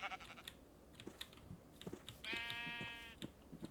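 A sheep in a video game gives one clear, drawn-out bleat among scattered computer keyboard clicks, with no voices.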